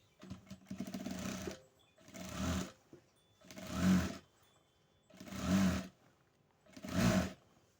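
A sewing machine stitching a seam on a dress, running in five distinct bursts separated by short pauses, each a close, steady mechanical whirr with no voices.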